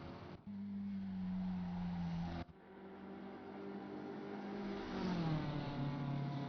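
Race car in Assetto Corsa Competizione on the Nordschleife during an endurance race: a steady engine drone that cuts out abruptly twice, then resumes and rises and falls in pitch as the car accelerates through a corner.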